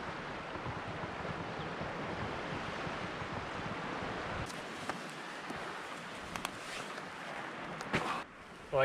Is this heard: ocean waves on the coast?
yes